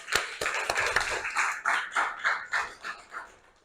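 A classroom of students applauds a classmate, a dense burst of clapping that starts loud and thins into a few separate rhythmic claps toward the end.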